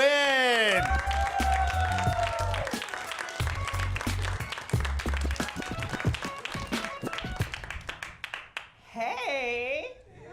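Audience applause for a comedian at a comedy show, with brisk clapping and crowd noise over a deep musical beat that tapers off before a voice speaks briefly at the end.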